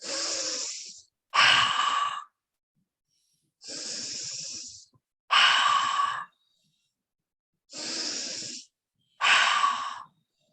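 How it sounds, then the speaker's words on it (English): A person performs energizing breathing during a shoulder-shrug yoga exercise, forceful nasal breaths in three pairs, each an inhale followed by a sharper exhale, close and loud with silent pauses between. "This kind of breathing is known as energizing breathing."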